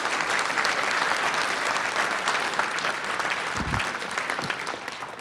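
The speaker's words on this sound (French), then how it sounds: "on vous applaudit" Studio audience applause on a French talk show, a full, even burst of clapping that holds steady and tapers slightly toward the end, with a brief low thump partway through.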